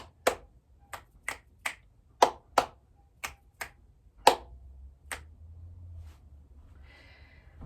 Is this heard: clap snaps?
yes